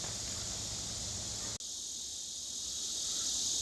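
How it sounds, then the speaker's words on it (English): Cicadas drone loudly and steadily at Pinery Provincial Park in summer, a dense high buzzing that fills the whole stretch and dips for a split second before carrying on. "Listen to those cicadas."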